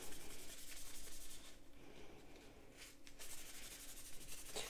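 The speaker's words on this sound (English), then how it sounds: "take some rubbing alcohol and rub down both sides of the knife" A cloth soaked in rubbing alcohol is rubbed along both sides of a knife blade, giving a soft, quiet, close scrubbing sound in repeated back-and-forth strokes.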